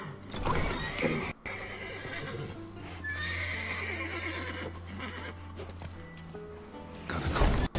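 Horses in The Witcher 3 whinny over steady game ambience with a low hum, hooves clip-clopping, and the neighs rising clearly midway before a louder closing burst.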